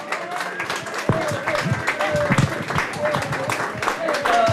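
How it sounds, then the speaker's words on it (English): Audience applause at a Half Moon Bay History Association event about Mavericks: dense, continuous clapping from a crowd, moderately loud and steady with a few sharper claps and voices mixed in. "A little louder applause."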